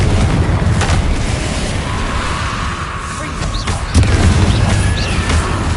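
In the Hogwarts Legacy video game, a Confringo explosive spell goes off with heavy booms and crashing impacts, loud and continuous through the fight, with a spoken voice briefly present.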